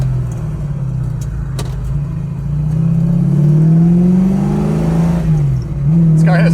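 A 1967 Mustang Bullitt replica on a RoadsterShop chassis, its V8 engine rumbling loud and close and rising in pitch as it accelerates, easing briefly and then pulling again.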